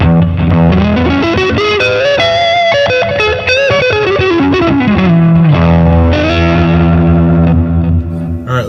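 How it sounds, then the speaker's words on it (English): Boosted electric guitar through a Boss Katana amp, a loud, driven lead with sliding bends and sustained chords ringing continuously for about nine seconds, with no voices. "Let's try turning on the boost."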